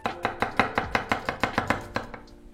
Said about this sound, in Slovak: Najprv si nakrájame cibulu, nakrájame si ju na mesiačiky